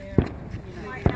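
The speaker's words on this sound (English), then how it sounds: "You can hear the fireworks, more people celebrating." Fireworks bursting during a street celebration near an old marketplace and pyramid grounds in Tlancualpican, Mexico, two sharp booming pops about a second apart, heard at moderate distance over crowd murmur and talk.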